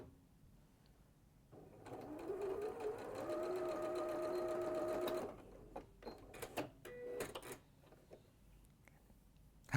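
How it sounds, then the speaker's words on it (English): A domestic sewing machine runs a continuous whirring, rhythmic stitch for about three seconds while sewing the seams of a linen apron, then stops, leaving soft handling clicks and knocks; quiet voices murmur in the background. "you're going to stitch down both sides, about a centimetre just across this fold part"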